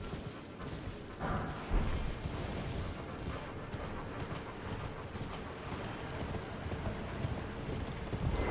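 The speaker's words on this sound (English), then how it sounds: "Get on the horse." Horse hooves galloping in Elden Ring, a rapid continuous clip-clop rhythm with low rumbling underneath, moderately loud and steady throughout.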